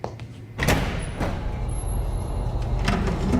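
A secure door opens with a sharp metallic clunk into a research building on an agricultural R&D campus in Johnston, Iowa, followed by a steady hum of air and a few fainter knocks.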